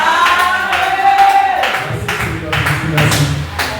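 Congregation in a church clapping in a rhythmic series of sharp claps, with a voice speaking at the start and music tones underneath.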